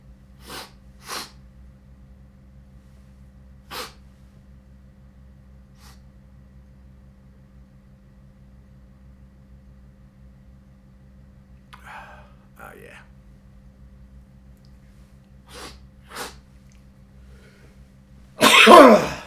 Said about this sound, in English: I haven't done this much sneezing in a while